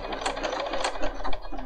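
A Bernina 500 series sewing machine stitches the bar tack across the end of a manual buttonhole, a close, steady rapid mechanical whir with rhythmic needle clatter, no talking.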